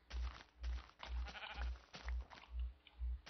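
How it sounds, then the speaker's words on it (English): Sheep in the video game Minecraft bleat in a steady series of about seven short, low, evenly spaced baas. The bleats are clear and close, with no talking. "Come here, sheepies."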